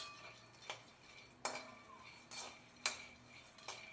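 Peanuts roasting in a hot kadhai while being stirred, giving scattered crackles and sharp clinking scrapes against the metal pan, several distinct louder hits over a faint steady background.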